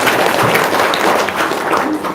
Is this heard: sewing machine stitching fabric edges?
no